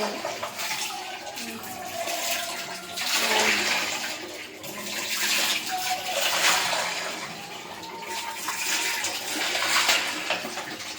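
Water is poured over hair to rinse out conditioner, making a close, continuous splashing and gushing that rises and falls in waves, without speech.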